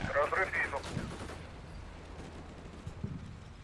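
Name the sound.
tank firing in Combat Mission: Black Sea video game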